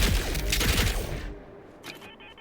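Burst of plasma shots from the Discharger laser pistol in Fallout 4, several rapid blasts close together with a rumbling tail that fades, followed by a faint later click.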